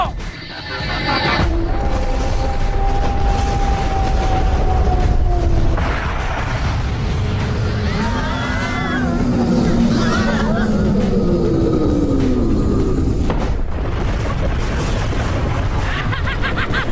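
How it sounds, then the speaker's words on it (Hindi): Cartoon cannon blasts and explosions boom through a busy animated battle scene, with voices talking, music and other effects layered over the bursts. "देखा हमारी तेज आवाज वाली तोप की ताकत को।"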